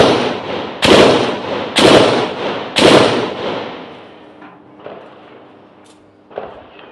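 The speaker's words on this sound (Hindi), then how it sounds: "ये वीडियो है जिसमें गोलियों की आवाज साफ सुनी जा सकती है।" Gunfire during clashes between Palestinian Authority forces and resistance groups, heard as three loud, sharp cracks about a second apart, each followed by a long echoing decay, then fainter, more distant pops.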